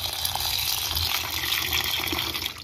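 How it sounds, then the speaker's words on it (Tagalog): Water gushes steadily into a container of pig feed being mixed, a continuous close splashing fill with no pauses. "lagyan lang natin ito ng tubig, tapos imimix natin"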